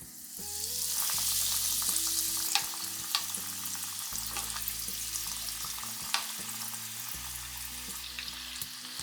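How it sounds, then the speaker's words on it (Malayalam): Snacks bubble and sizzle in hot oil in a home kitchen, a steady, dense frying hiss with occasional pops, under soft background music. "അപ്പോൾ ഇത് ഫ്രൈ ചെയ്തെടുക്കാൻ വേണ്ടി ഓയിൽ ഒഴിച്ചു നല്ലപോലെ ചൂടാക്കണം"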